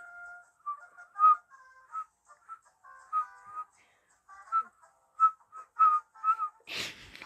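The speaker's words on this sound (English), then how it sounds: "I'm trying to whistle it, but it's dead hard." A person whistles a halting, stop-start tune of short high notes and brief runs close to the microphone, with a sharp breathy rustle near the end.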